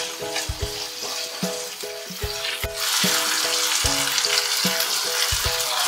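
Masala paste for fish curry frying in a pan, a steady sizzle that swells into a loud, dense hiss partway through, heard up close over rhythmic background music.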